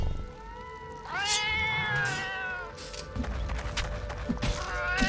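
A pet cat in the video game FATE meows twice, drawn-out and clear, with a short pause between calls and steady game background noise underneath.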